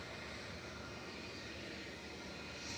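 Jet airliners from carriers such as Jet2, Ryanair and EasyJet taxiing at Manchester Airport, a steady, continuous engine rumble and whine holding at an even level throughout, heard at moderate distance.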